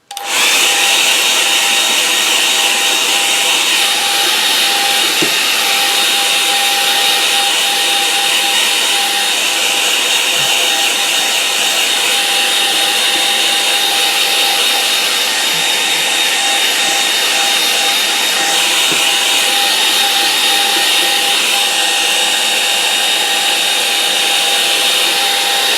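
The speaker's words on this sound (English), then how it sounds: "Right, okay, hair dryer." A hair dryer blows in a steady, loud, continuous whoosh with a constant motor whine throughout, uninterrupted and close by.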